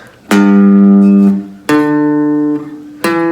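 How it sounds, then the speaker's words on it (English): Three single plucked guitar notes, each ringing out clearly and sustaining before the next is struck, loud and close with no voices. "I'm just going to strum the single notes"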